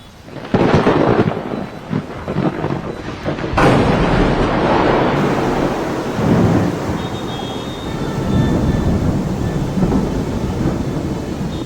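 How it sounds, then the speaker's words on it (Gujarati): Heavy rain, the first of the season, pours down in a dense, steady hiss, joined by deep rumbles of thunder that swell and fade. "આ વરસાદ ચાલુ થઈ ગયો છે."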